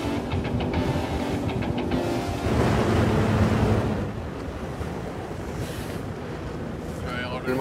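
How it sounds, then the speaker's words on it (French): An outboard boat motor runs steadily on a carp fishing lake in winter, a continuous churning drone mixed with wind buffeting and splashing water. "Le moteur? Ouais. Le moteur."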